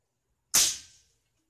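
A single sharp air rifle shot at minimum power, firing a heavy homemade lead pellet at an oil filter, a crisp snapping crack with a brief fading tail, alone in silence.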